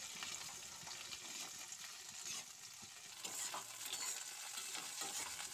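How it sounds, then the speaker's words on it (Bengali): Chopped capsicum frying in hot oil, with a steady broadband sizzle and occasional stirring scrapes, close and continuous with no talk. "ওই তেলের মধ্যেই আমি কিন্তু কেটে রাখা ক্যাপসিকামগুলোকে আমি দিয়ে দিচ্ছি, দিয়ে মিনিট 2-3 ভালো করে ভেজে নিচ্ছি"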